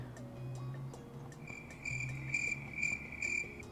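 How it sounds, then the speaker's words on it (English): Crickets chirp in steady, evenly spaced pulses against a quiet background, with a faint low hum underneath and no talking. "Insert crickets here."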